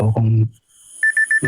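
An alarm goes off with four short, evenly spaced electronic beeps, clear and moderately loud, between stretches of someone speaking in Tagalog during an online church session.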